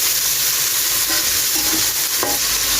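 Chopped tomatoes sizzle loudly and steadily in a pan for pasta, a dense close hiss with a few brief scraping stirs rising over it.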